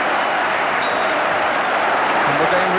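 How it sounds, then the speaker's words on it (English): A football stadium crowd at a 1982 Leicester City match keeps up a steady, loud roar of applause as a player leaves the pitch, while a commentator talks over it. "he's getting some tremendous applause"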